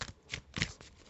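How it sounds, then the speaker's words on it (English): Tarot cards are shuffled by hand in three or four quick riffling bursts, close and soft, with quiet pauses between them. "I took out more cards to shuffle"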